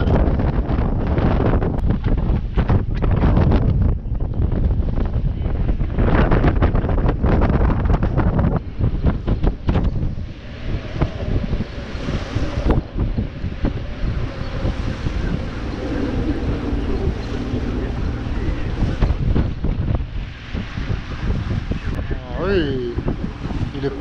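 Strong wind buffets the microphone on a moving sailboat, a constant roaring rush with water sloshing and occasional creaks, people talking faintly underneath.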